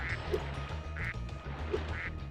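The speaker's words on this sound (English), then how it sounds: "Yes, hello, Mother Duck, I will come back to you later" Repeated duck quacks in the Spyro video game Ripto's Rage, three evenly spaced quacks over a steady looping game music bed.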